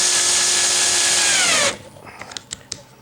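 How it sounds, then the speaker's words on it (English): A power drill drives a lath screw into a homemade indoor/outdoor TV antenna, making a loud steady whine for about a second and a half that cuts off. A few light clicks and taps follow, close up, with no talking. "taking another one of these lath screws and mount it on the inside"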